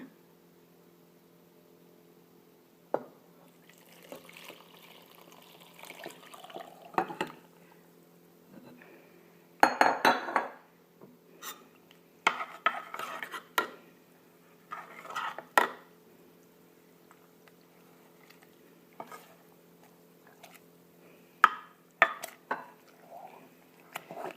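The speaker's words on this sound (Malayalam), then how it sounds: "ഞാനൊന്ന് ഇളക്കി ചേർക്കുന്നുണ്ട്" Scattered clinks and scrapes of a utensil against a pot while stirring a homemade apple wine mixture, irregular and fairly close, with quiet gaps between bursts of stirring.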